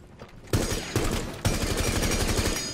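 Rapid automatic gunfire in Rainbow Six Siege, aimed at a ceiling: after quiet faint clicks, a loud burst starts and continues with a rhythmic rattle of shots, punctuated by heavier impacts.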